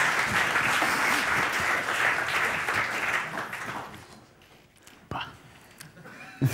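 A studio audience at a German TV show breaks into sustained applause for about four seconds, then the clapping thins out and dies away, leaving a few scattered claps near the end.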